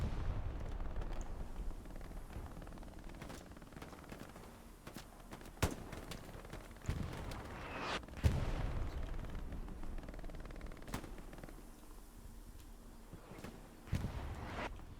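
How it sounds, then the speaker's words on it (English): Bombing-run explosions in a World War II tactical game sound as scattered sharp blasts and cracks, some near and some distant, over a steady low rumble of battle. "Does go down to the bombing run."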